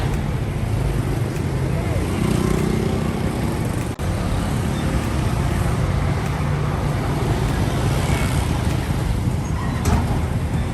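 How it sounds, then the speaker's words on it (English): A heavy container truck rumbles past on a highway, a loud, steady low engine and road roar that holds without a break. "container truck, giant, heavy, and unstoppable"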